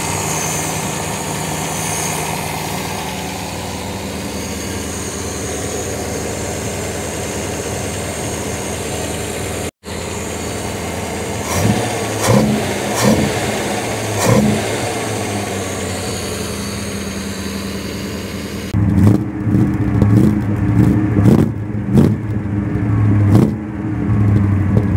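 A 1962 Daimler SP 250 engine idles with a steady, close rumble, then blips through a series of short revs with a throaty rise and fall, ending in a few sharper bursts.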